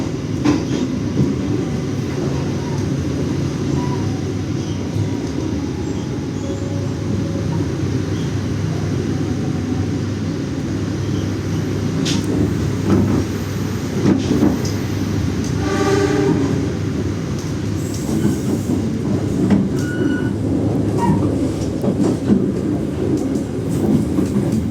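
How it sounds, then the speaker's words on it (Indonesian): The Blambangan Express passenger train rumbles steadily close by, with wheels clacking and brakes or horn tones rising midway as it rolls slowly into Karawang station, Indonesia. "Pukul 7:13 kereta api Belambangan Express tiba di stasiun Karawang"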